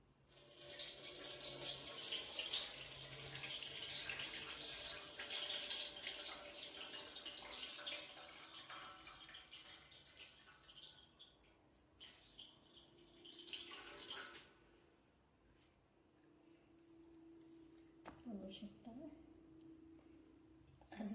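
Sago pearls being washed under running water, first a steady pouring and splashing stream, then quieter sloshing and drips later on, with someone talking at times over it.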